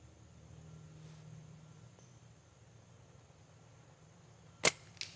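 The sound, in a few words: slingshot shot fired with a Forkshooter frame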